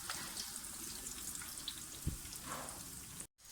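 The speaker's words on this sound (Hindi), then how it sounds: "तो इस तरह से मीडियम लो फ्लेम पर ये बहुत ही अच्छे ज़बरदस्त किस्म के फ्राई हो रहे हैं" Chicken finger kababs fry in oil over a medium-low flame, giving a steady close crackling sizzle with a small clack near the middle and a brief dropout near the end.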